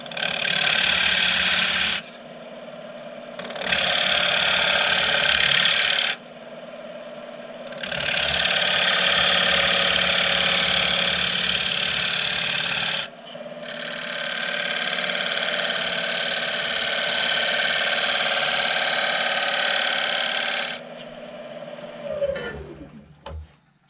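Wood being shaped to cut a recess for a marble tray, with several loud sustained bursts of a power tool's high whirring grind separated by short pauses of quiet hum, ending with a winding-down whine.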